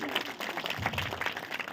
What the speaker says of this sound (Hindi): जोरदार तालियों से स्वागत करते रहिए जब तक उसको प्राइज न मिल जाए